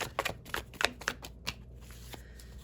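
Tarot cards being shuffled by hand, a quick series of crisp riffling flicks and slaps, close and fairly quiet, with no talking.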